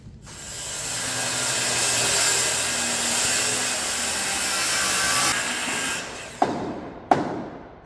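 Wood being sawn to cut down pieces for repairing a trailer, a steady continuous rasping that runs for about six seconds, then stops, followed by a couple of sharp knocks.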